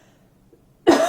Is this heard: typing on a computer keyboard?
no